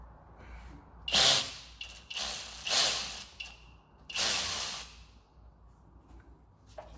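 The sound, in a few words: loosening AC line to compressor on Ford F-150 3.5 EcoBoost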